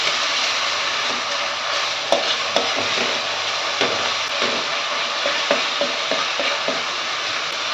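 Ginger, garlic and green chili paste frying in oil for a Malvani mutton curry, a steady close sizzle with scattered scraping knocks of a spoon stirring against the pan, no voices.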